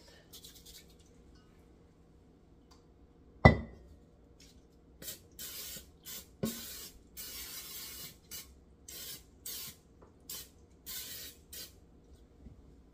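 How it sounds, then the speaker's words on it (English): A sharp knock, then a run of short hissing bursts of vegetable oil spray into a Dutch oven in an irregular rhythm, close up, with quiet handling noises between them. "going to give my Dutch a quick spray of some just plain vegetable oil spray"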